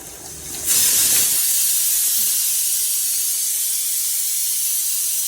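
A pressure cooker lets out a loud, continuous jet of hissing steam that bursts in abruptly and holds steady to the end, close and dominant over faint background noise.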